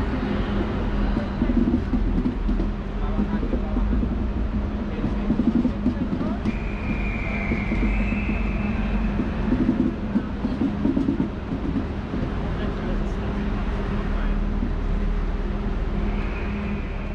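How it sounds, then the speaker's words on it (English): A DSB intercity train rumbles steadily into a station platform on the Hamburg–Copenhagen route, its low mechanical drone continuous, with a brief high squeal of brakes partway through. "And this is my train coming in."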